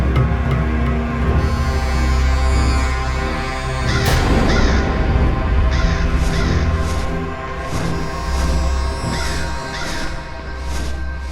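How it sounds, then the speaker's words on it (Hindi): A crow caws repeatedly in short harsh bursts over a dense, steady background of music and ambient noise, the calls spaced every second or so through the middle stretch. "खोदा पहाड़ और निकला कौआ"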